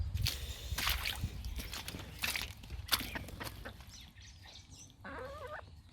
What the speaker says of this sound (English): chicken's robbing Bruno's tucker